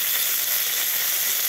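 Ginger and cumin paste frying in a pan with tomato, salt and turmeric while cauliflower curry is cooked, giving a steady, close, loud sizzle and hiss that runs unbroken with no talk.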